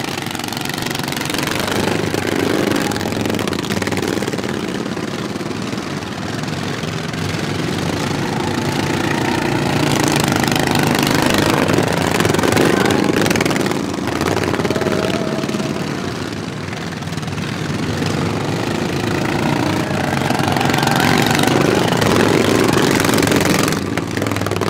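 Small racing lawn mower engines howling continuously through a heat race on a track, a dense, loud buzzing drone with pitch rising and falling as the machines circle, heard alone.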